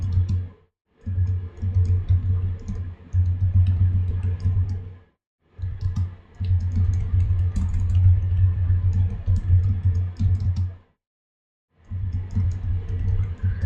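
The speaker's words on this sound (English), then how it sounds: "I'm just typing some random stuff here" Steady clicking of keys on a computer keyboard while entering text at a database prompt, continuous bursts of close, light tapping broken by a few short pauses.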